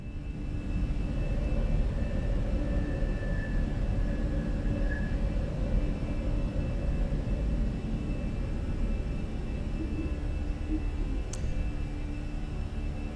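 Airbus A320 engines at go-around thrust in Microsoft Flight Simulator, a steady, loud broadband jet roar holding evenly throughout with a faint tonal whine on top and no talk.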